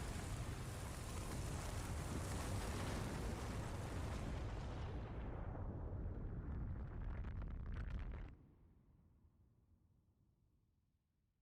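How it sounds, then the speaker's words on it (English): A huge explosion in the video game Beyond: Two Souls gives a loud, sustained roar of rumble and debris, then cuts off abruptly and falls away into a faint fading tail. "Big explosion there"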